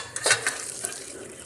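Boiled chana dal (split chickpeas) tipped into a strainer, with a few quick clattering splashes followed by a steady hissing drain of water.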